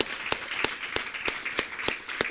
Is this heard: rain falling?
no